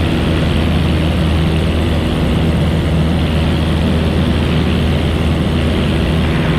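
Cabin of a propeller training airplane in flight during touch-and-go practice, a loud, steady low engine drone with constant propeller hum and no break.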